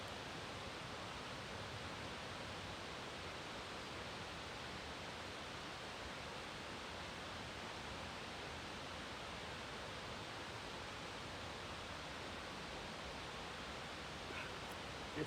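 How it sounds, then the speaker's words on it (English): Steady broadband rush of flowing water, constant and full throughout, like a creek tumbling nearby with no pauses. "It's the water coming down from that creek"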